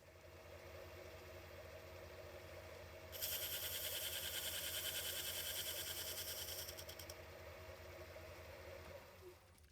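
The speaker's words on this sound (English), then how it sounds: "Now we can machine the outside to the diameter it's going to run at." A metal lathe turns down the outside diameter of a small Clupet piston ring, giving a steady high-pitched cutting hiss for several seconds over the constant mid-range drone of the running machine.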